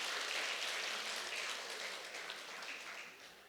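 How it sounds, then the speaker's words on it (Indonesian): A church congregation claps together as a wash of soft, distant applause that starts fuller and gradually tapers off, heard without speech. "Kasih tepuk tangan kepada Tuhan."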